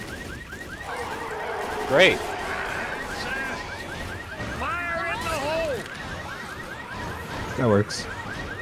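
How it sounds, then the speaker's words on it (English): A car alarm in Left 4 Dead chirps in a fast, repeating pulsing pattern throughout, moderately loud amid gameplay noise, with people talking over it. "Careful, alarm car to our left."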